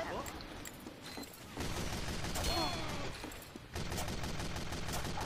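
Gunfire in the video game Team Fortress 2, bursts of rapid shots and clattering fusillades, fairly quiet and dense across the stretch, with brief gaps between volleys.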